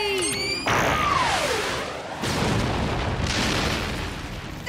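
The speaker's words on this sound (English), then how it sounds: "Squamethane torpedo away!" A cartoon squamethane torpedo launches with a rising whistle and then bursts into a loud, sustained roaring explosion that rumbles on for several seconds, with no talk.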